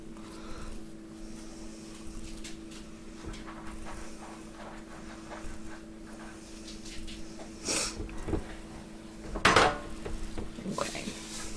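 Chocolate chip cookie dough scraped off by hand for an iron skillet, with soft scuffs and a few sharper clinks and knocks of dishes and utensils, close and intermittent, with no talking.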